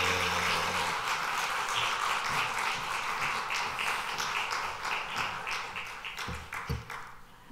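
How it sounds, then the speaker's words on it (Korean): A church congregation claps warmly to welcome a member coming up to give a testimony, dense steady applause from many hands in a hall that gradually thins out and tapers off toward the end. "우리 나오실 때 따뜻한 박수로 맞이하겠습니다."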